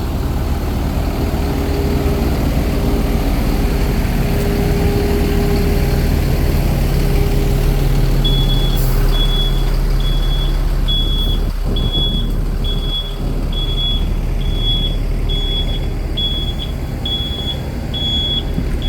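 A truck engine idles with a heavy low rumble at Morritt's resort, Grand Cayman, and partway through a regular high-pitched reversing beep starts repeating steadily until the end.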